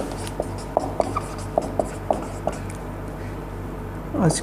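Chalk writes on a board during a chemistry class, a run of short sharp taps and strokes spaced irregularly, close and clear over a steady low hum, ending in a longer scraping stroke.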